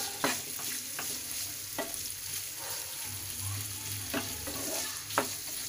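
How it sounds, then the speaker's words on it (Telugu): Chana dal frying in oil in a pan for a tomato dal curry, a steady sizzle with a spoon scraping and stirring at irregular intervals, close and continuous. "ఇప్పుడు ఇవి కూడా ఆయిల్లో తిప్పుకున్నాము."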